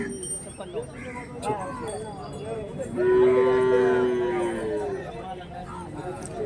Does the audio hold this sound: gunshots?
no